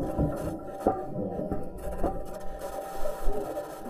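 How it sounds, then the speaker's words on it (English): The Perseverance rover drives across the Martian surface on its metal wheels, making a continuous gritty, grinding rumble with scattered clanks and knocks and a steady whine running through it, all heard without any voices. "This is the sound of Perseverance rover traveling on its metal wheels."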